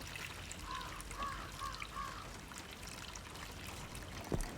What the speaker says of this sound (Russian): Но для начала спущу воду.